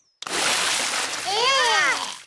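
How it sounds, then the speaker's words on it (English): A big cartoon water splash from a pig character soaking everyone, a loud broad whoosh of spraying water lasting about two seconds with a sliding comic tone layered over its end. "Daddy Pig has splashed everyone with water."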